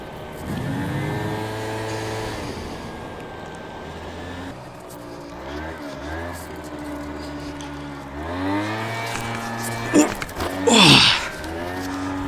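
A Piaggio Sfera scooter rides along with its small engine rising and falling in pitch through repeated revs and gear-like sweeps, fairly close and clear, with a brief louder burst near the end and no talking.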